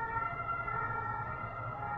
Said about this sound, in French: c'est urgent, hein, vu l'ambulance qui vient de passer.